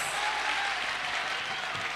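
An audience claps steadily and loudly at a live Bollywood mimicry comedy show, a dense continuous wash of applause from a crowd throughout, without speech.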